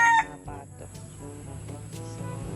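Chickens clucking in short, repeated bursts over a steady provincial farmyard background with ducks, fairly close with a few sharper calls standing out.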